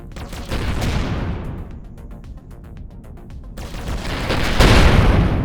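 Spaceship turrets fire in the space video game Avorion, a dense, continuous barrage of booming gunfire that runs the whole time, thinning briefly midway and then swelling louder again toward the end, with no talk over it.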